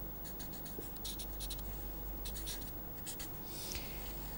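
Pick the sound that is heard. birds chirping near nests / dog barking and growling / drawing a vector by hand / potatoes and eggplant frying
drawing a vector by hand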